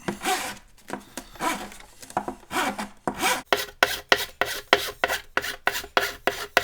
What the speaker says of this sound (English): might file this horn in a little bit